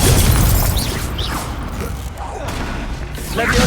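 A Confringo fire spell goes off in Hogwarts Legacy, a booming burst with crackling debris and a low rumble that stays loud throughout, with game sounds layered underneath.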